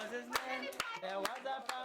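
Children at a kindergarten in Kilema, Tanzania, clapping as they sing together. The claps come in sharp, evenly spaced beats over the voices.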